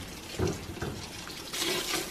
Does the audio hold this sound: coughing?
no